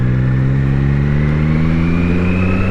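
A Triumph Trident 660 three-cylinder motorcycle engine revs loud and close, a steady strong whine that climbs gradually in pitch as it accelerates, with no talking.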